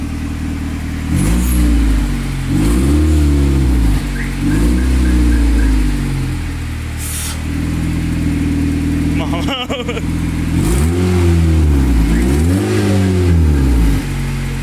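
A Honda Accord engine running in neutral, revving loudly in repeated rising and falling bursts over a steady idle, close up, with a brief voice partway through.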